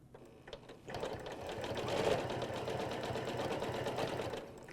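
A sewing machine stitches steadily along a back-to-back ruler template, following a chalk line around a curved hump in quilting, its rapid needle rattle starting after a quiet moment and holding a continuous, fairly loud whir.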